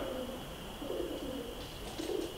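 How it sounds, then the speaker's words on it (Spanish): A pigeon coos in soft, low, repeated phrases during a paranormal session in a silent disco in Mallorca, with a steady hum in the background and no talking. "Paloma"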